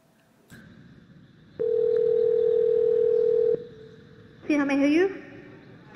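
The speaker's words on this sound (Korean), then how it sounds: "구글 AI 듀플렉스가 사용자 대신 식당에 전화를 합니다" A telephone line carries a call placed by Google Duplex AI to a restaurant: a click, then a single long steady ringback tone, a pause, and a brief voice answering over the line.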